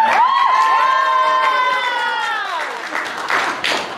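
A church congregation cheers and applauds for graduates at a Sunday service, with a long sustained whoop over crowd shouting and clapping that fades after a few seconds.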